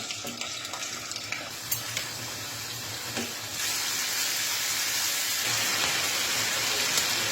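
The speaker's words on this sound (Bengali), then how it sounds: "আমি চিকেনগুলো আগে লবণ দিয়ে মেখে নিয়েছি, এখন ভেজে নেব" Salted chicken pieces fry in hot oil in a home kitchen. A few soft clinks come first, then a loud, steady sizzle fills the rest of the clip, with no voices.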